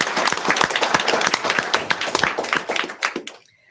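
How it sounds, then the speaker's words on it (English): A crowd at a school board meeting applauding, dense steady clapping that fades out at the end. "Give him a round of applause."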